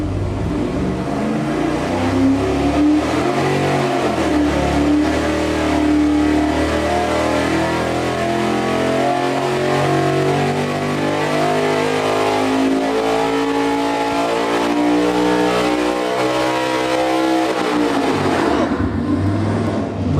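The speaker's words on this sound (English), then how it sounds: "So this is gonna be our pull with our new smaller blower pulley and just a mechanical checkup, making sure that that engine's happy." Supercharged engine of about 1,000 horsepower with a smaller blower pulley making a dyno pull: loud, close sustained roar climbing steadily in pitch for about seventeen seconds, then abruptly cutting off to a fading wind-down.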